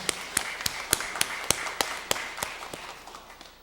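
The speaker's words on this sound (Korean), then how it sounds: "우리 하나님께 영광의 박수 올려드리겠습니다" Sharp claps ring out in a church service, spaced in a steady rhythm and fading slightly toward the end, fairly faint and alone.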